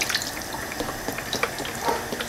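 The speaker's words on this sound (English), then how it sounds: "we're going to add a little more beef stock to cover it." Beef stock poured into a pan holding browned beef shank, a soft continuous liquid splash and trickle, close and fairly quiet, with no talk.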